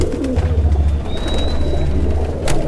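A brown double-barred pigeon coos steadily and close by, a low, continuous burbling with no voices over it.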